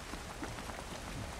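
Valheim rain, a quiet, even hiss of drops striking surfaces that holds unchanged through the short stretch, alone and fairly faint.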